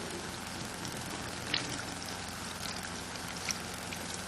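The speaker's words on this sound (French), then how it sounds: "Alors, je commence d'abord par mouiller mes mains." Tap water runs steadily while hands are wet before soap in a handwashing demonstration, a constant close splashing rush that fills the whole clip, with no talk.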